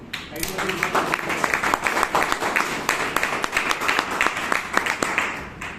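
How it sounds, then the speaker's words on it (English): Applause from the audience at a Toastmasters club meeting in Bangalore, a dense, steady round of many hands clapping that holds for several seconds at close range with no talk over it. "So let us give one more round of applause to them."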